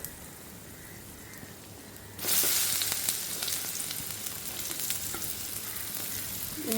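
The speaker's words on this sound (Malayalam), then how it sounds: "നന്നായിട്ടൊന്ന് നെയ്യിലൊന്ന് വഴഞ്ഞ് വെച്ചിട്ടോ" Banana pieces dropped into hot ghee burst into a loud, steady sizzle after a couple of seconds of quiet, then keep crackling and spitting close by, with occasional stirring.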